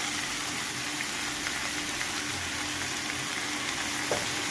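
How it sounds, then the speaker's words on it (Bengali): Tender bottle gourd leaves, just washed, fry in hot oil with a steady, even sizzle close up, loud and unbroken for a few seconds, with no speech. "এখন এই তেলের ভিতরেই আমি কচি কচি লাউ শাকের পাতাগুলো ধুয়ে দিয়ে দিলাম"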